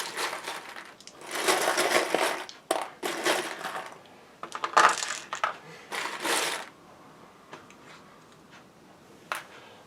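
Dice rolling and clattering onto a table during an Axis and Allies D-Day board game, several bursts of rattling in quick succession followed by a few sparse clicks as they settle, fairly close.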